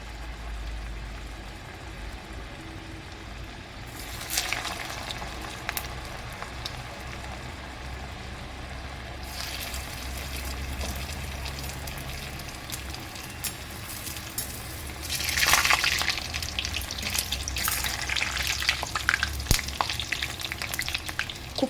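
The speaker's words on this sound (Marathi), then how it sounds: "आता आपल्याला हे तळून घ्यायचे. एकदम मध्यम आचेवर आपल्याला तळून घ्यायचे." Food frying in hot oil on medium heat for an Ashadhi Ekadashi fasting dish, a steady sizzle throughout that swells louder and crackles more busily toward the end, with occasional stirring.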